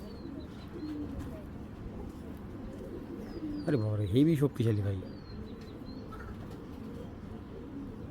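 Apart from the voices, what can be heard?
Girbaj pigeon cooing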